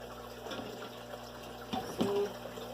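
Aquarium water from a 29-gallon tank is scooped into a measuring cup: a short splash and pour near the end, after low gurgling and handling noises.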